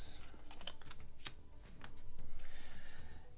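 Cards for the Star Wars Outer Rim board game are shuffled by hand, a quick run of riffling, fluttering snaps up close, with a brief voice in between.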